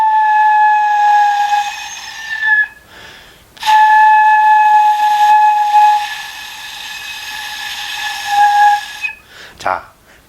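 A flute head joint blown on its own produces a steady, breathy whistling tone. Two long sustained notes are separated by a short pause with a breath, and a brief noisy puff follows at the end.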